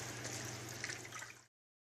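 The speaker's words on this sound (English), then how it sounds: "I'm gonna keep washing it, rinse it with cold water again, and let it drain." Cold tap water runs steadily over raw pork being rinsed for Lao sour pork sausage, a close, continuous splashing wash that stops abruptly.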